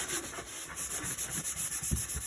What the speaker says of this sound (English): I typically use like one of those Scotch pads to just roughen up everything a bit and maybe take off